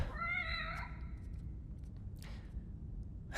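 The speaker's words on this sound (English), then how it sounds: "Look, here's the kitty. Pet the kitty." A cat meows several times in The Evil Within horror video game, a clear rising-and-falling cry in the first second, then quiet game ambience with a faint rumble and a few soft clicks.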